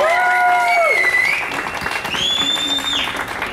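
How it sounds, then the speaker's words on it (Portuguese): A crowd at a birthday party applauds for a while, with bright sliding whistle-like tones riding over the dense clapping. "Uma salva de palmas para você"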